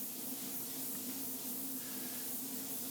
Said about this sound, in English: here's my first coat going on